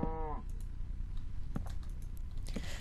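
Cow in the Minecraft video game giving a short, low moo at the very start, followed by scattered computer keyboard clicks and typing in a quiet room.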